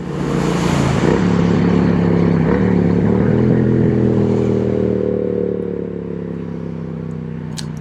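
A modified, speed-tuned Triumph Street Twin 900 motorcycle rumbles steadily and loudly while being ridden, its deep engine drone holding through the run before easing slightly near the end.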